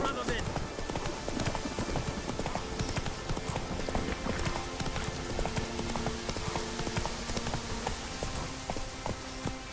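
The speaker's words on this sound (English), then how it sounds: "Come on, Roach." Hooves of a horse clip-clopping in the Witcher 3: Wild Hunt video game, PS5 edition, a steady close walking rhythm under game music and occasional spoken lines.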